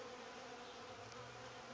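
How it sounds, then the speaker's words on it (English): Bees buzz steadily around a hive as they come and go, forming a continuous dense hum that stays close and fairly even throughout. "Bees coming and going."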